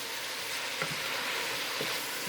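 Onions and peppers sweating in a hot pan for dirty rice, giving a steady, quiet sizzle and crackle with a couple of faint stirring knocks and no talking.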